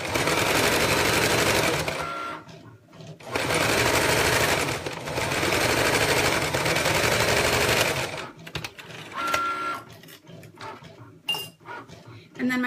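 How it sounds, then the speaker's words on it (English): A sewing machine fitted with a quarter-inch presser foot stitches down one side of a zipper, running in two long, loud, steady bursts, then giving way to softer handling clatter and small knocks. "I've just got my 1/4 inch foot. I'm gonna sew this on."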